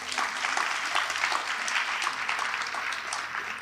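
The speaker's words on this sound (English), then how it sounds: "can we give them a nice round of applause?" An audience at the 2023 Hope Awards ceremony claps steadily, a dense, even round of applause filling the hall without pause.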